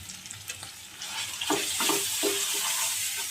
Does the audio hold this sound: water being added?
yes